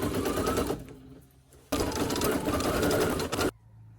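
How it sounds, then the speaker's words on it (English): An embroidery machine stitches the word "treat" on a Halloween lollipop holder made in the hoop, giving a steady rapid mechanical chatter in two loud bursts with a short pause between them, then stopping abruptly. "Let it stitch a couple stitches and then cut that tail."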